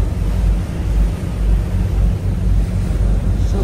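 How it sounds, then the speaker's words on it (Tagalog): Big sea waves during a rough ferry crossing from Lipata toward Mindanao: continuous loud rushing water and wind buffeting the microphone, with low rumbling surges and no talk. "Alon masyado po mga kaibigan ha."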